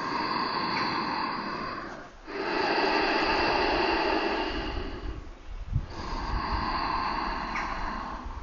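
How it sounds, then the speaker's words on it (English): Slow, deep breathing during a seated yoga sequence, long drawn inhales and exhales flowing almost continuously with two brief pauses, close and fairly loud with no talk. "It's a five long deep breaths."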